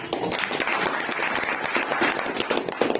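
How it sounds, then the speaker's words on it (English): Audience in an English class claps steadily for Avinash, a dense continuous patter of hands filling the room for about three seconds. "So there must be the more clapping for this one."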